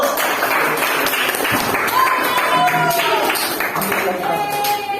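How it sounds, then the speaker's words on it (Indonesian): A classroom of students applauds a group stepping up to present, with steady, dense clapping filling the room and voices mixed in throughout. "Coba tepuk tangan untuk kelompok 1."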